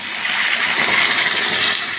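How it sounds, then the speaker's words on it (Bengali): Hot water pours into a pot of jackfruit and prawn curry, a steady splashing rush lasting about two seconds, close and even, with no one speaking. "তো আমার জল গরমটা হয়ে গেছে, চলো এবার ঢেলে দিই।"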